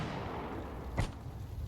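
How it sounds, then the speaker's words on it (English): A single muffled gunshot cracks far off around the middle in the game Firework Mania, faint against a steady low background rumble. "There's gunfire in the distance."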